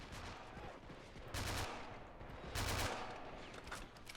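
Rapid submachine gun bursts in the WWII strategy game Men of War during a US Marine and Army beach assault on Guam, two loud sustained bursts standing out over continuous distant gunfire and battle noise.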